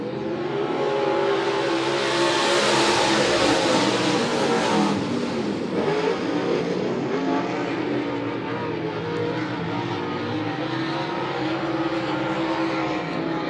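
USRA Modified race cars roar around Monett Motor Speedway in a heat race, a dense, loud wall of engine noise with rising revs and steady full-throttle drone as the pack passes close by.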